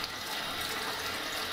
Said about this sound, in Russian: Я включаю воду. Самую горячую, какую могут вытерпеть руки.